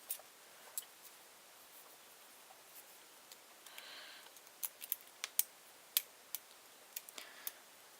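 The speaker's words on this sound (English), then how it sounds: "We lift it until we hear a click, and we feel for another pin" A lock pick works the pins of a pin tumbler lock. Small, faint ticks and clicks sound up close and sparse, with a brief light scraping run partway through.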